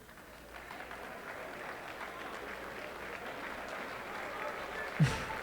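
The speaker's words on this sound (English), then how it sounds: "How many here are virgins, and then everyone claps for them" An audience bursts into sustained applause, a dense, even wash of many hands clapping that holds steady for several seconds and swells briefly near the end.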